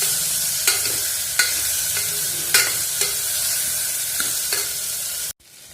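Chopped okra with tomato fries in a pan, sizzling steadily as a spoon stirs it, the scrapes recurring about every second before the sound cuts off abruptly.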